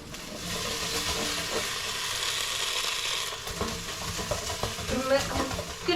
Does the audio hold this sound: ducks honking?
no